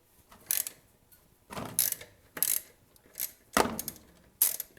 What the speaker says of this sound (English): I'm going to reach under with my extension and ratchet and remove this drain plug.